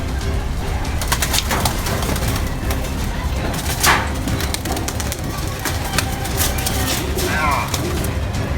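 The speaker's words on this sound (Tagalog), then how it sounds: "Napakadaming ibon." A large flock of pigeons coos and flutters close by in an outdoor spot in Himumuro, a dense, continuous chorus of coos and calls with occasional louder bursts, people talking over it.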